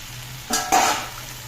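Dal and rice frying in a pan for kichidi: a quiet background, then two short bursts of scraping and sizzling as the mixture is stirred.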